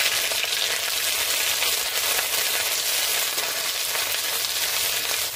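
Ginger garlic paste sizzles loudly and steadily in hot oil in a pan, cooking for a chicken omelette, with a continuous close frying hiss throughout and no talking.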